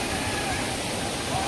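Mlamala waterfall in Kumily, Kerala: a steady, dense rush of falling water pouring into a pool below, continuous and fairly close, with no break across the short stretch.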